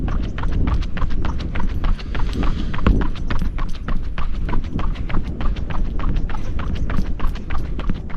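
Rapid, regular footfalls of 361 Flame 3 ET running shoes slap the ground during a run, a crisp, evenly paced patter of close, loud strikes that continues without pause.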